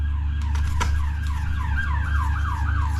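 An ambulance siren wails in a steady repeating rising-and-falling pattern, moderately distant, over a low constant hum.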